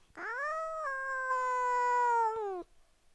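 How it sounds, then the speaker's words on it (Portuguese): A cat inside a backpack lets out one long drawn-out meow lasting over two seconds, close and clear, with its pitch shifting slightly partway through. "Na minha mochila eu tenho... uma gata!"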